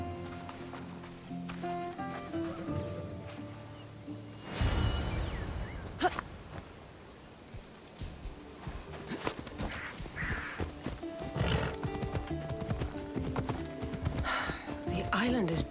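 Horse hooves clip-clop at a steady trot in the Assassin's Creed Odyssey video game, close and continuous. Characters talk over the riding, and a horse snorts or whinnies partway through.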